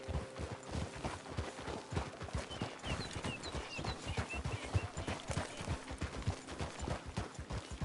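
Horse hooves clip-clop steadily at a walking pace in the Red Dead Redemption 2 video game, close and rhythmic across the whole stretch, with faint ambient game sounds behind and no talking.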